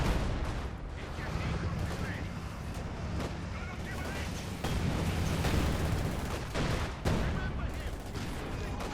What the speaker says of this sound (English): As the field guns just keep firing there